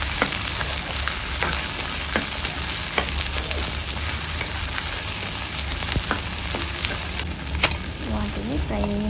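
Okra frying in a pan, stirred until browned, gives a steady close sizzle and crackle with scattered scraping clicks, running throughout without talk.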